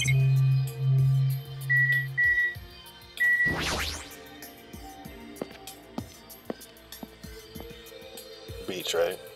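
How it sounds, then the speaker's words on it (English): A chime rings out in the Danganronpa 2: Goodbye Despair video game, brief and clear over a game soundtrack, with people talking around it. "That bell just now."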